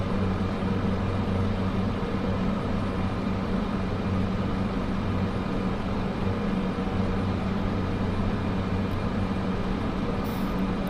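A light aircraft in Microsoft Flight Simulator 2024 flying over the Fife area of Scotland, giving off a steady, continuous engine and airframe drone with no breaks or changes in level.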